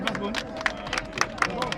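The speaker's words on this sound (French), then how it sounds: "Applaudissez." An audience at a football tournament prize ceremony claps in a quick, uneven patter of hand claps, while a voice talks over it throughout.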